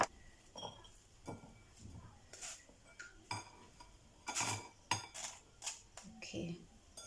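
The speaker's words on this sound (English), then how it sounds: "Then I'll stir everything very well." A spoon stirs coleslaw salad seasoned with black pepper in a bowl, making a quiet run of scraping and clinking strokes against the dish in an uneven rhythm, close by.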